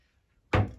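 A herbal cabinet door in a home apothecary shuts with a single soft thunk after near silence, the sound fading quickly.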